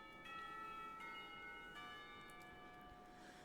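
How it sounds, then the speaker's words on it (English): A school bell rings in the video game Katawa Shoujo, soft repeated bell-like tones struck several times over a quiet background hiss, faint and somewhat distant, no voices. "The bell rings and the teacher at the front of the room gestures that classes are over for the day."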